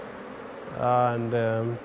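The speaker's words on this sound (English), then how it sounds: "You can see the way I'm brushing the bees away" Bees from a Rongai hive buzz loudly and close as they are brushed off a honeycomb frame during a honey harvest, a steady drone that swells after a quiet start, with a brief spoken word.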